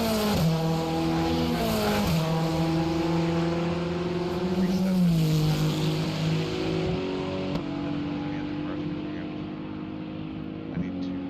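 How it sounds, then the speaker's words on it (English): Race car engines in a video game drone and rev steadily in the background as the cars warm up, their pitch rising and dipping, with a voice talking over them throughout. "You can already hear cars in the background starting to warm up."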